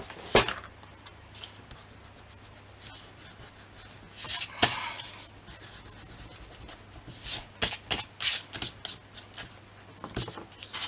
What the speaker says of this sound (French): Je vais venir gommer le tout.